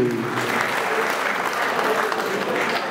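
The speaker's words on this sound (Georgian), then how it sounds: "აპლოდისმენტები ბექა ქარცვაძეს." A crowd at the GAMA Grand Prix fight event applauds fighter Beka Kartsvadze, continuous dense clapping filling the hall with a faint murmur of voices underneath.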